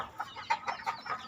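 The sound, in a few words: chickens clucking in a chicken coop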